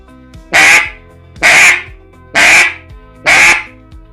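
A Kynat Daardy-2 duck call is blown to imitate a lone duck quack, giving four loud, evenly spaced nasal quacks about a second apart, close up and with nothing else heard.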